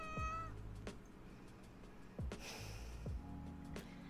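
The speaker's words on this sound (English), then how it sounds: "I have a cat who is saying hello, as you heard" A house cat meows close by indoors, a few short, clear meows spread across a few seconds over a low steady background hum.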